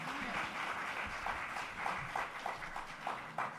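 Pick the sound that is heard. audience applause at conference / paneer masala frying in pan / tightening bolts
audience applause at conference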